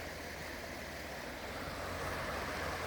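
Waterfall cascading over rock in cold weather, a steady broadband rush of falling water heard at low level from nearby, no talk.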